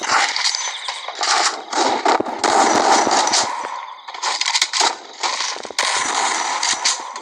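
Loud, rapid automatic gunfire from a video game rattles in dense bursts with short gaps between them, close and continuous for several seconds, with no speech over it.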